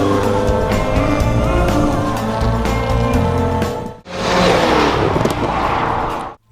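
A 2006–2008 Subaru Liberty with a 2.5-litre turbo engine revs loudly up close, holding a droning pitch before cutting off and surging again in a second burst.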